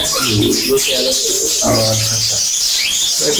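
Cockatiels in an aviary give short chirps and coo-like calls amid a busy flock chatter, close and fairly loud, with people talking over the birds.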